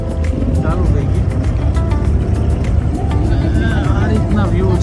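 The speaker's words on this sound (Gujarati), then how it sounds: "આ અમે અમારી બોટ ચાલુ થઈ ગઈ." A boat engine in Dubai, near the Gold Souq and Meena Bazaar, rumbles loud, close and steady throughout, with a deep continuous drone and faint voices of people talking in the background.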